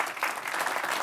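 An audience claps warmly after a university Vice-Chancellor's report presentation to the University Council, a dense, even burst of applause from many hands, brief and steady throughout.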